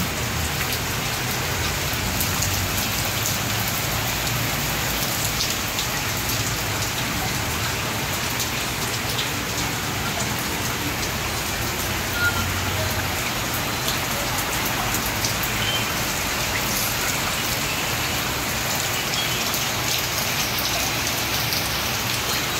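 Heavy rain pours steadily and loudly during a tropical storm in Luzon, a dense unbroken roar of drops hitting surfaces amid flooding, with no voices.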